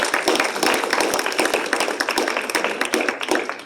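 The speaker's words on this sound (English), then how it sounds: "let's give a round of applause." A room of listeners at a talk on building a Catholic city applauds at the end of a light roast, with crisp individual claps in a fairly close, steady burst throughout.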